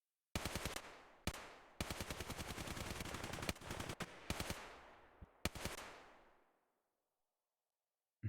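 Video game gunfire rattles in long, loud, rapid automatic bursts separated by short pauses, the last burst trailing off into a fading echo and then silence.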